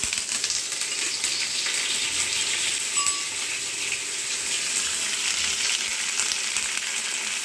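Curry leaves frying lightly in oil with oats, a steady, even sizzle and crackle of hot oil that runs unbroken at moderate loudness, close by.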